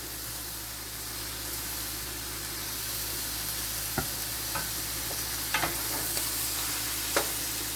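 Bolognese sauce frying in olive oil over medium heat, a soft continuous sizzle with a few light stirring clicks from a utensil, close and steady.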